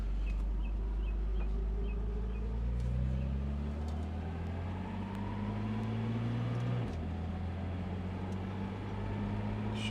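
A classic Mercedes Pagoda roadster's smooth, freshly tuned engine runs steadily while on the move, a continuous close drone whose pitch climbs gently as it accelerates and drops once at a shift, with faint wind noise and no talking.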